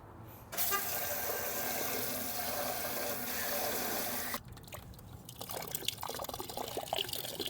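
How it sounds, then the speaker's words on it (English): Water sprays and pours steadily against the metal of a greasy deep fryer, a broad rushing hiss that shifts midway into a rougher, splashier stream. "Here, let's try to spray it out."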